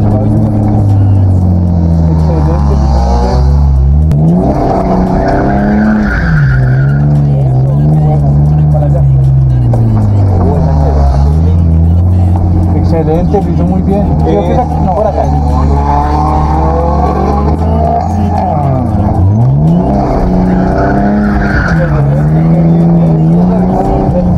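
Car revving hard while drifting at a drift course, engine note rising and falling in repeated sweeps with tire squeal, loud and close, while an instructor talks over it.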